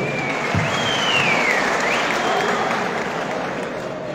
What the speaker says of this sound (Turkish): Alkışlar doğruyoruz efendim